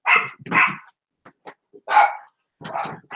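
Several dogs bark close by in a room, with a few loud barks and a scatter of short yips and soft growls between them.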